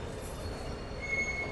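The 12337 Shantiniketan Express pulls out of Howrah station, a low rolling rumble of carriages from inside the train with a thin, faint wheel squeal rising briefly.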